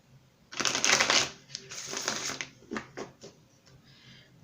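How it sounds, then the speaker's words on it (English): Quick riffling shuffle of tarot cards, a dense burst of rapid paper flutter followed by a few soft taps and slides, close and fairly quiet. "Give that a quick shuffle."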